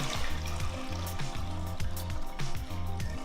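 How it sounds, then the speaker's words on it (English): Cold water splashes and rushes steadily into a pot of rice, a continuous close pour with rhythmic sloshing and clinking throughout. "So again, we'll just add some cold water."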